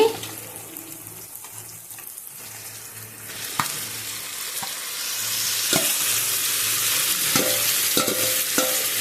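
Chicken pieces frying with onions and tomatoes in a pan for chicken curry, with a steady sizzle that grows louder midway and scattered sharp scrapes and knocks of stirring, close up and without talk.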